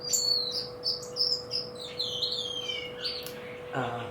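Finches chirping inside an aviary: a string of bright, high tweets and short calls repeating over a steady low hum, fairly close, with no voices.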